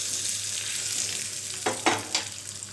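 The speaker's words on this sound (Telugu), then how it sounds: "తాలింపు ఫ్రై అయిన తర్వాత మనం ముందుగా మిక్సీ పట్టిన పచ్చడిలో వేసుకోవాలి." A garlic tempering for gongura tomato chutney sizzles steadily in hot oil, and a few brief stirring scrapes come near the end, with no voices.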